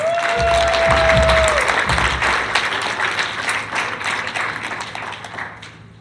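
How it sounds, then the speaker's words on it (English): Audience applause follows a jazz session by student trumpet and alto saxophone players, loud steady clapping from a crowd filling the room, fading slowly toward the end. "Let's give them a round of applause."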